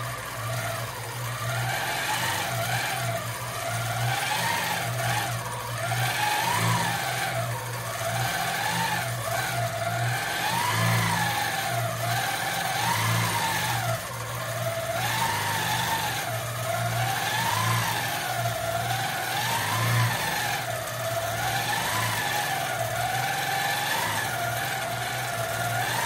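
A longarm quilting machine stitching free motion keeps up a steady motor whir that swells and dips in a regular wavering pattern throughout, with no voices.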